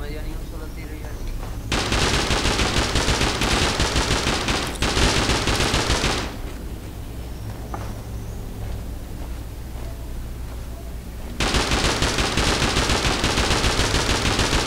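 Rapid automatic gunfire from the video game Rust crackles loud and dense in long sustained bursts, stopping for a few seconds of quieter game ambience before another burst starts.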